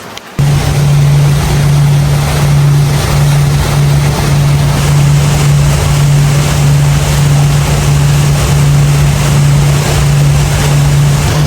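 A motorboat travels along the Napo River in the Amazon jungle while rain falls. A loud, steady, droning engine hum sits close over a constant wash of water, wind and rain, with no talk.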